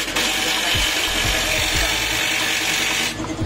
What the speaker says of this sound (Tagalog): yan yung pag-uandar yung motor natin ng mabilis